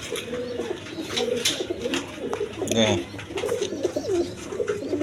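A pair of big imported beauty pigeons coo in soft, repeated rolling calls close by, while someone talks over them.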